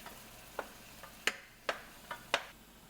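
Ground turkey stirs and fries in a pan, with faint sizzling beneath a handful of sharp, irregular scraping clicks as the meat is broken into smaller bits.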